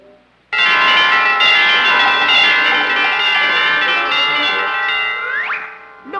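Church bells ring in a belfry in a loud, sustained peal, with bright overlapping metallic tones that sound continuously before fading near the end.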